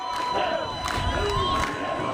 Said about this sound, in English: Thousands of families, like Dan Gillen and his wife Andrea, lined up along the curb to cheer on their Marines